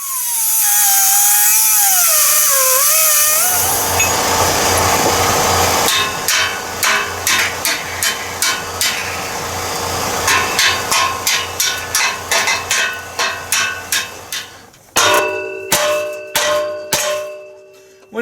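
Repeated metal hammer blows ring out close by on the exhaust of a 2011 Chevy Equinox, after a loud stretch of impact wrench noise, striking in quick, uneven bursts with a clanging tone.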